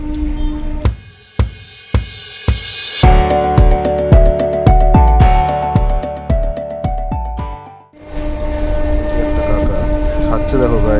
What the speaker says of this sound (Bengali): স্টেশনে বসলাম, ওই যে ট্রেন আসছে।